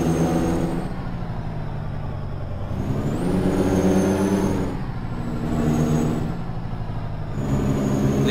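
A Marcopolo Paradiso GV 1150 coach engine in Euro Truck Simulator 2, a steady loud diesel drone that swells and eases in pitch as the bus accelerates and shifts, with no talk.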